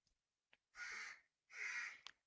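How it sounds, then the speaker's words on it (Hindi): A crow caws twice, two harsh drawn-out calls with a short pause between them, fairly distant and faint against a quiet background. "पता नहीं कौवे को क्या चाहिए।"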